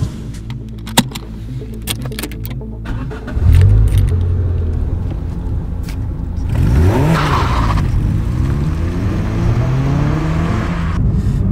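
A Renault Clio 2 RS pulls away and drives off, its engine rising from a low idle into a revving acceleration that swells and holds steady nearby, with a few light clinks early on.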